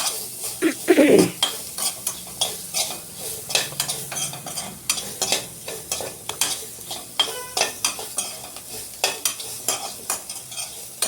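Onion frying in a pan while being stirred, a continuous sizzle under frequent rhythmic scraping strokes of a spatula, close and fairly loud, with no talk.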